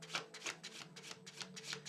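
Tarot cards being shuffled by hand, a steady run of crisp riffling and rubbing bursts repeating every fraction of a second, close and moderately loud with no talking.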